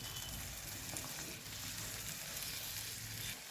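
Masala paste for shahi paneer frying with a splash of water in a pan, a dense, continuous close-up sizzle and crackle with faint stirring underneath.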